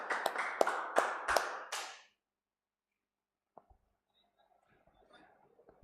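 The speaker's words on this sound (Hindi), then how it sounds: "जोरदार तालियां लव कुश के लिए" A short, sharp burst of clapping greets a guest on a test-series class for exam aspirants, lasting about two seconds before cutting off into near silence with only faint scattered sounds.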